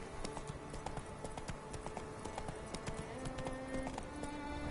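Roach, a horse in The Witcher 3 game, gallops with steady, rapid hoof clip-clops that continue evenly throughout, close and clear against a dense ambient backdrop.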